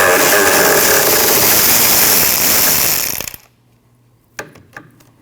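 A 12mm bolt being loosened on the rear ABS wheel speed sensor of a 2003-2008 Subaru Forester: a loud, continuous mechanical whir for about three seconds that stops abruptly, followed by a few sharp metallic clicks.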